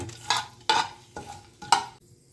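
Whole cinnamon, cardamom, cloves, star anise and bay leaf sizzling in hot white oil for chicken pulao, heard as four sharp bursts of crackle at a slow, uneven rhythm, each fading quickly, with a quiet low hum between them.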